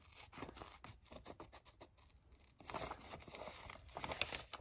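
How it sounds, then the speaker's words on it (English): Scissors fussy-cut paper for a glue book in a quiet room, giving a run of close, soft snips followed by scratchy, rustling paper sounds near the end. "I'm gonna fussy cut this out and stick it right here"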